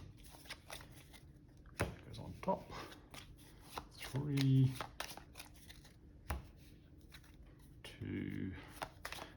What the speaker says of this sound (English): give that a light shuffle